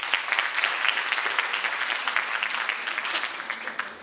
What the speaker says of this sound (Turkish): Hadi bir alkışlar Abdullah Hoca öyleyse.